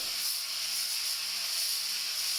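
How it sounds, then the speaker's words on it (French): Loud, steady sizzling hiss of pork and caramel browning in a hot pan, continuous and close with no pauses. "le grésillement que vous entendez, eh bien, c'est le caramel qui est en train de se faire avec la viande"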